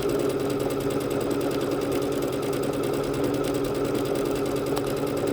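A Bernette B-77 sewing machine stitches steadily, a close, even, rapid mechanical whir that runs unbroken and alone throughout.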